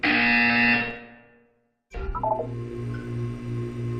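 A loud electronic buzzer in the video game Portal 2 sounds for about a second and fades into silence, then another harsh tone kicks in and continues steadily.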